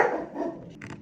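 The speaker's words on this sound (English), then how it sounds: "Stop with the barking." Dogs barking indoors, a single loud nearby bark burst followed by a fainter second yelp, with no talking.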